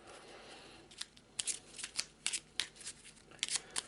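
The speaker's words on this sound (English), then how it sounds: "we've got to shuffle them all back in" A deck of board game cards for the dungeon crawler Perdition's Mouth: Abyssal Rift is shuffled by hand, giving a run of crisp riffling bursts and soft slaps, close and clear with no talking.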